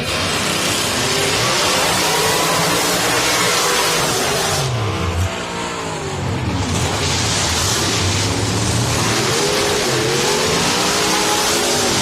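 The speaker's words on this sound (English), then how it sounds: "Sound in pro-modified drag racing, that of a supercharger on alcohol." A supercharged alcohol-burning pro-modified drag car, a 1990 Chevrolet Beretta, roars at full volume, its engine rising and falling through revs with a brief dip midway before surging back.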